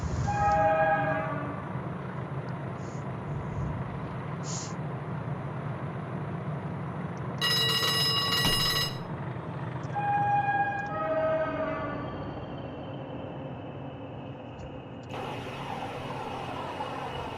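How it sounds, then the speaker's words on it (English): A train passing through a tunnel rumbles steadily throughout, with a horn-like tonal blast partway and harsher metallic bursts, sounding enclosed and continuous, with no talk. "Trains make more noise in tunnels"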